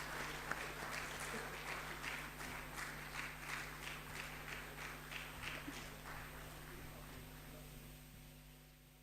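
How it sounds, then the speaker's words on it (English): Faint applause from an audience at a hackathon awards event, a soft patter of clapping that slowly fades away, heard at a distance. "please have a round of applause for them as well."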